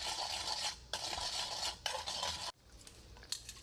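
A spoon stirs soy sauce, sugar and honey in a bowl, making repeated close scraping strokes with short pauses between them.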